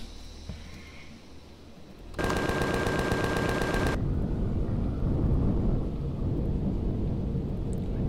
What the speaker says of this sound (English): don't know what those gunshots were